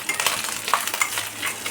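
Grated coconut is stirred in a pan with black cumin and dried chilli over low heat, a soft sizzle under repeated scraping strokes of a spatula, close and moderately loud.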